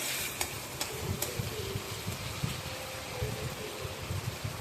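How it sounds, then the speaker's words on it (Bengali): Onion, tomato, green chilli and masala paste being sautéed in a pan for a pabda fish curry, giving a steady low sizzle with scraping stir strokes and a few sharp clinks of a utensil against the pan. "ভালো করে কষতে হবে"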